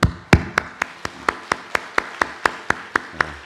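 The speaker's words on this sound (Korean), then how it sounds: "박수 보내겠습니다." Church congregation at a worship service clapping in steady unison to congratulate a member who has become a grandfather: about a dozen sharp, evenly spaced claps at a brisk rhythm, with no talk.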